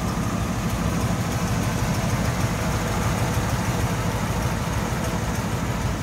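A 1940 Cadillac Series 60 sedan's 346 flathead V8 idles with the hood open, a steady low smooth rumble with an even, continuous hum, close and alone.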